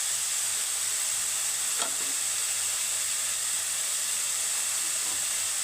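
Green chillies sizzling in oil in a pan while cooking egg and vegetable noodles, a steady close frying hiss throughout with a brief stir around the middle, no voices.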